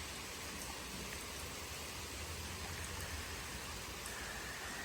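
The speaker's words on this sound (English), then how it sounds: "we've just got a good steady rain right now." Steady rain falling during Hurricane Helene, a dense even hiss with a low rumble underneath, continuous and fairly close with no gaps.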